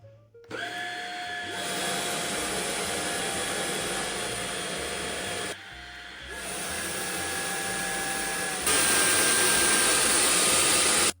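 Jimmy PW11 Pro vacuum cleaner running, a loud steady high-pitched motor whine with a whistling tone, briefly dipping in power midway and then rising to a louder setting before switching off.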